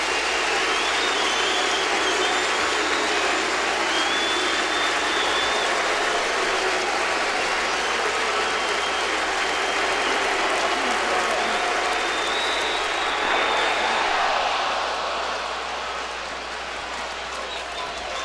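Dense, sustained crowd roar fills a baseball stadium during a 2007 playoff game at Yankee Stadium, loud and steady for most of the stretch before easing slightly near the end.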